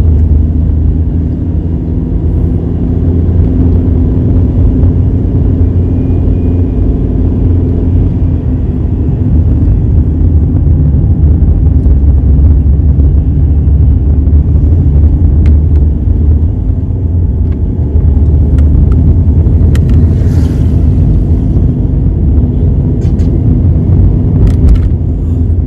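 A car engine straining up a steep slope on Madeira, a loud, steady low rumble and drone sustained throughout, with a few faint clicks and knocks, no voices.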